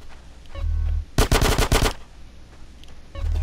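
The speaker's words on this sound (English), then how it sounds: "Get some suppressing fire in there!" Loud bursts of automatic gunfire from a Grand Theft Auto: San Andreas shootout with police, a dense rapid volley lasting under a second amid quieter game ambience and low rumbling.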